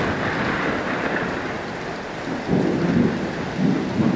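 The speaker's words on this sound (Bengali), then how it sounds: "অনেক বজ্রপাত হইতেছে" A thunderstorm with heavy rain in Munshiganj, a steady loud downpour with rolling low thunder swelling near the end, no voices.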